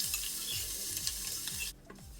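Mustard seeds, crushed garlic and cumin hit hot oil in a pot with a bright, steady sizzle and rhythmic stirring scrapes that stop abruptly near the end.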